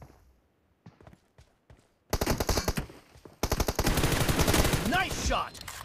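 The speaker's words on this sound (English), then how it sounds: "Nice shot!" Gunfire in a PUBG Mobile team deathmatch: a few scattered shots at first, then loud, dense automatic bursts up close, with brief voice chatter mixed in near the end.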